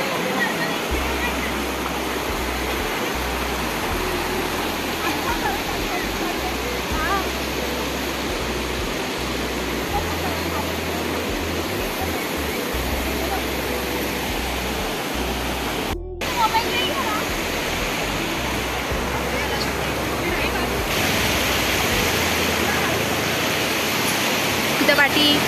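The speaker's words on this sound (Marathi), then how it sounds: "तिथं धबधबे आहेत." Waterfalls at Gadeshwar roar steadily as a broad, constant wash of rushing water throughout, with people talking over it.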